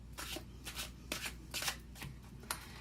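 Tarot cards being shuffled by hand, a series of quick riffling bursts repeating in an uneven rhythm, close and fairly quiet.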